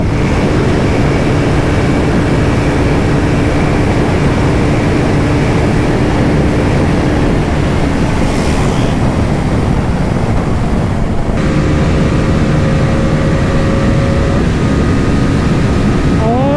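Bajaj Pulsar NS400z and Triumph Speed 400 motorcycles drag racing, a steady loud engine drone buried in heavy wind rush, with a sudden shift partway through as one machine pulls ahead.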